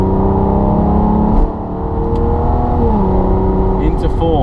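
A 2005 Aston Martin DB9 accelerating from the cabin, its engine note climbing steadily before a brief dip at the shift from third into fourth gear, then pulling again, loud and close with a droning tone.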